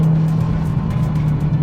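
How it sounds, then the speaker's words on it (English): A Dodge Hellcat runs close and loud, a steady low engine drone carrying a sustained tonal supercharger whine throughout. "you do have that wonderful whine from the supercharger"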